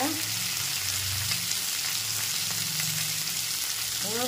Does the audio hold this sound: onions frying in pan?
yes